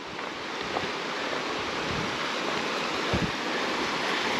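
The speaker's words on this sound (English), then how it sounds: "Get a really close-up look of the creek." A creek on a trail leading to falls rushes with a steady, broadband wash of flowing water, heard close and fairly loud, with a few faint knocks and no speech.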